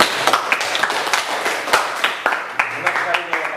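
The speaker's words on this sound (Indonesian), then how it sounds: "Aplaus untuk Nurkaya." Classroom of students applauding a classmate, a burst of fairly close clapping with sharp irregular claps continuing throughout, with a voice briefly under the applause.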